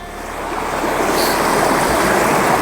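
A flowing stream beside a rice field in rural Laos, with steady, loud broadband rushing water that swells slightly and runs continuously without a break, heard close up and with no voices.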